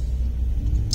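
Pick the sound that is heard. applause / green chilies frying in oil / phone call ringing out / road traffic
road traffic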